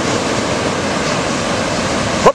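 Ocean surf rolling onto a beach, a dense, loud, steady wash of noise with no clear breaks, ending in a short bump of handling noise.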